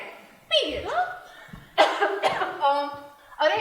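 Someone coughs a few times in a short burst, the harsh bursts sitting among voiced, throaty sounds with speech-like tone around them.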